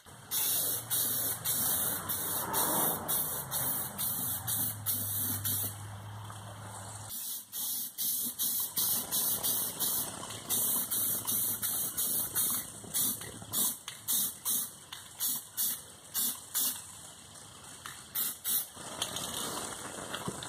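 Rattle-can spray paint hisses in repeated bursts of varying length while coating the wheels of a 4x4 Chevy Blazer, with short gaps between sprays and a steady hiss throughout, close and loud with no talking.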